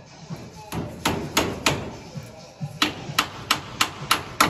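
Blacksmiths pounding metal with hand hammers, a run of sharp ringing strikes in an irregular then steady rhythm, close and clear with no talk over them.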